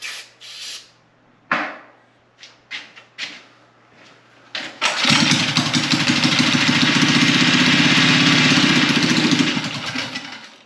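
A motorcycle engine on a barstool racer build fires up after a squirt of starting fluid: a few sharp coughs and pops, then it catches and runs loud and steady at a rough idle, close by.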